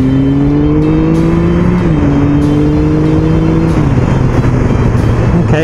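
A Triumph Speed Triple 1050 motorcycle engine pulls hard under throttle while riding, its loud, steady drone rising in pitch with a couple of brief dips between gears, alone with wind rush and no talking.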